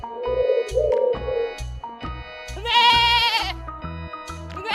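A goat lets out one long, loud, wavering bleat that lasts about a second, set against a bouncy backing tune.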